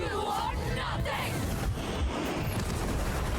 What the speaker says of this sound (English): At 3 sparks, Phoenix triggers a fire explosion.